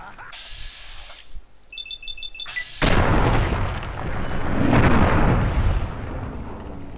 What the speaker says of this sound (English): He shot at me a little bit.